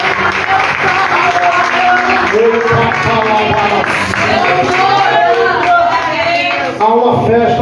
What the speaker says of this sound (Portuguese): Vamos aplaudir Jesus aí, por favor